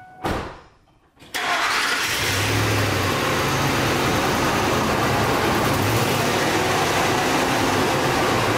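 A car engine cranks briefly, catches and settles into a steady, loud idle that runs on without a break, with a crank position sensor being tested.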